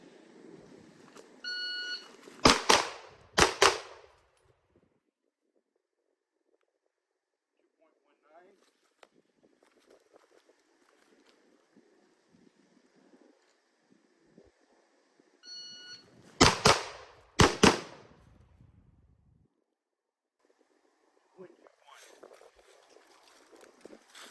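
A B&T TP-9N pistol fires in a close-range drill from the retention position. A shot-timer beep is followed by a quick, loud pair of shots, and the beep-then-pair sequence repeats once with quiet handling noise between.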